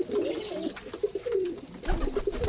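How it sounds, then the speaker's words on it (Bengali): Pigeons in their loft coo close by, a few soft, throaty, rolling calls that overlap one another, over faint shuffling and background noise. "একটু দেখাইলাম কীভাবে কবুতরগুলো বসে থাকে"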